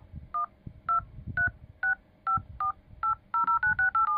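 A series of short, clean dial pad key tones on a Redmi 13 phone, about a dozen, tapped at an even pace and then quicker near the end, with faint background noise.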